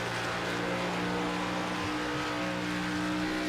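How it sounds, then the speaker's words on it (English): A Toyota stock car engine from an iRacing Xfinity Series race at Las Vegas drones steadily at high revs, a dense, sustained roar with no break and no voices. "It's the Toyota, and it sounds beefy."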